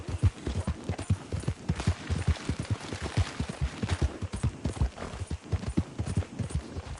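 Rapid horse hoofbeats from the video game Red Dead Redemption 2 clip-clop in a steady galloping rhythm, close and crisp, with no talking over them.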